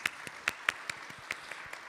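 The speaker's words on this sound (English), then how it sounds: "Please send a big applause to recognize the contribution by the speakers" Sparse, faint applause from a summit audience for the session speakers, a handful of distinct claps standing out over a thin spread of quieter clapping in a large venue.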